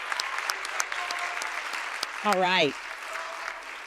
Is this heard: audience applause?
yes